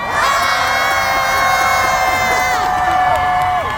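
A festival crowd at the Ulsan Whale Festival cheers, shouts and claps steadily and loudly while sustained sung or musical tones ring over the noise, easing off near the end.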